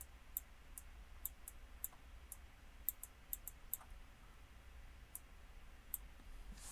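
A computer mouse clicks in sharp, faint, irregular single and double taps spread over several seconds against a quiet room background, with no voice.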